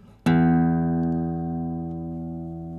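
A guitar tuner app plays a reference E tone: one steady electronic pitch that starts abruptly, sounds alone and clearly, and fades only slightly as it holds for a few seconds.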